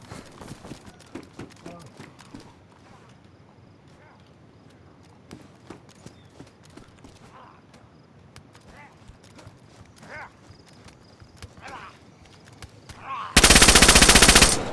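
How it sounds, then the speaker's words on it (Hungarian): Gunfire in DayZ on PS5 at the NWAF airfield: scattered sharp shots and footsteps give way to a loud, dense burst of rapid automatic fire at the end. "Én egyet fejbe lőttem."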